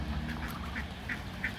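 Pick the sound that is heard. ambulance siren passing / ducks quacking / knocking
ducks quacking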